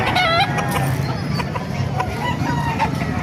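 Gamecock roosters of the white Kelso line cluck and crow loudly and close by at a busy Bocaue market in the Philippines, over a steady din of crowd noise.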